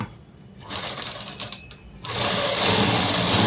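A sewing machine stitches a dress seam in steady bursts of fast, close mechanical whirring. It stops briefly, then runs louder and continuously to the end.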